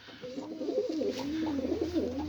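Pigeons coo in a loft of birds kept for auction, a continuous close, fairly loud run of rolling, throaty calls with no voices.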